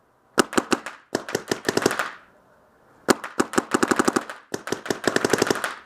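Two paintball markers, a Planet Eclipse Lv1.1 and an Empire Vanquish, fire in quick rapid strings of sharp pops, two bursts separated by a short pause, loud and close with no talking.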